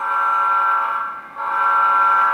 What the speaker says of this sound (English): That gives you the playable air horn like you would get on a regular throttle